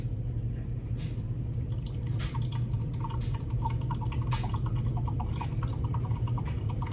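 Red wine vinegar trickling slowly from a bottle with its cap still partly in the way, a thin steady run of small drips and splashes over a constant background hum, with no talking.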